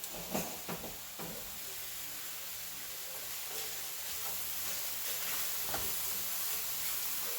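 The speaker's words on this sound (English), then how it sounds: "So basically we're just sauteing the mushrooms." Mushrooms sautéing in a pan for a keto creamy chicken dish produce a soft, steady sizzling hiss throughout, with a few light knocks near the start.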